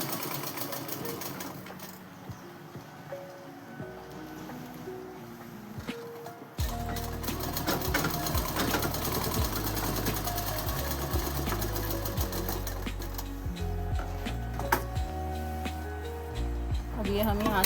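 A sewing machine stitches a coat suit, starting quietly and then running fast and loud after several seconds in a steady mechanical whir with rapid rhythmic clatter, while a voice talks over it.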